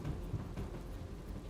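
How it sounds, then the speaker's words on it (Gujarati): Heavy monsoon rain pours down in Surat, a steady dense wash of falling water with low rumbling underneath, close and continuous with no voices. "રાતથી જ ધોધમાર વરસાદ વરસી રહ્યો છે।"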